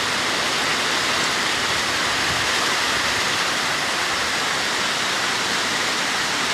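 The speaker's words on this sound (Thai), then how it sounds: "ดูครับ ดูครับ ฝนตกครับ" Heavy rain pours down in a dense, steady roar that stays loud and unbroken throughout.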